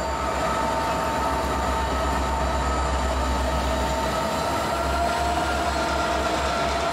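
Norfolk Southern freight NS 152 rolls past with EMD locomotives, two SD60s, a GP40-2 and a yard slug, producing a loud, steady close-up rumble of engines and wheels on rail throughout.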